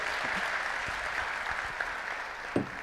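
Audience applause at a trainers and speakers conference, steady, fairly soft clapping from a crowd across the whole moment.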